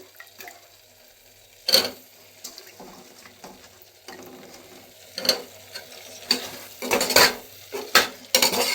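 Vegetables going into cooked masala in a pan, heard as scattered clinks and scraping stirs of a utensil against the pan, separate close knocks spread over about nine seconds with no speech.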